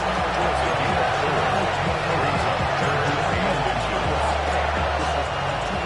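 Dense, steady stadium crowd roar at a Big Ten college football game, loud and continuous throughout as fans make noise before a third-and-inches snap, with a commentator's voice running over the top.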